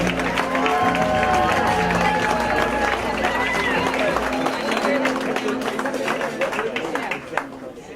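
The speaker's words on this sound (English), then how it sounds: "how about a huge round of applause and some love for the brand new Mr. and Mrs. Galliano" Wedding reception guests clap loudly for the newly married couple, a dense sustained round of applause with crowd chatter and cheers mixed in, tapering slightly toward the end.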